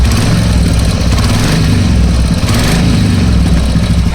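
Royal Enfield Classic 350 motorcycle idling with a leaking silencer, loud and close, a steady chuffing engine rumble with a rapid uneven pulse throughout and no voices.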